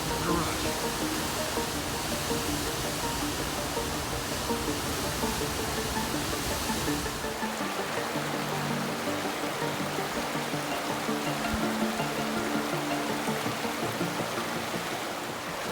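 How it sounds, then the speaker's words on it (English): A stream or waterfall roars as a continuous, steady broadband rush of water that fills the whole scene at close range, with no breaks. "Big rush of water."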